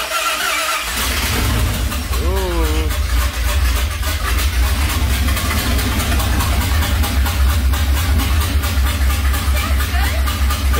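A 1978 Dodge Power Wagon with long tube headers cranks and fires up, then settles into a loud, deep, lumpy idle that runs steadily up close while people talk over it.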